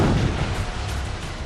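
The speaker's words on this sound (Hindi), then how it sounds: "M777 हॉवित्जर तोप" M777 howitzer artillery firing, a single loud deep boom at the start that rolls into a short rumbling decay.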